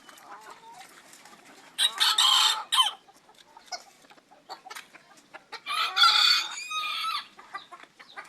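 Bantam roosters crow in two loud bursts, separated by softer clucking and scratchy calls from nearby fowl.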